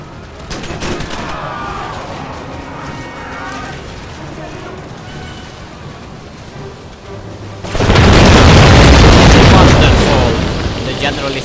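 Grenade blasts in the Empire Total War battle game, a broad loud explosive roar erupting near the end after a stretch of quieter battlefield clatter and crowd noise, with talking throughout.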